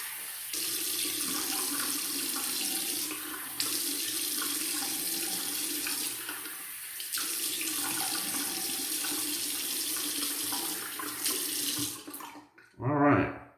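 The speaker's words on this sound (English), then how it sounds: "So let me rinse my head off." Tap water runs steadily into a sink while a freshly shaved head is rinsed, a continuous hiss with a few brief dips before it cuts off, followed by a short louder splash at the end.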